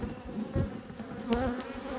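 Honeybees at an opened beehive buzz in a dense, close drone with wavering pitch, as several bees circle near the hive during winter-preparation work.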